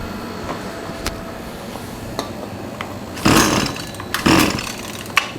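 A trash-picked Husqvarna 223L string trimmer's small two-stroke engine sputters with scattered pops, then catches in two brief loud bursts of running before dying back, heard close with no talking.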